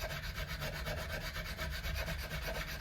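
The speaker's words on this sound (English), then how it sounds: "So let's just do the recrowning part and clean the file each time." A metal file works the frets of a Gibson BFG Les Paul during a recrowning repair, making a close, continuous rasping scrape in quick, even back-and-forth strokes with no voices.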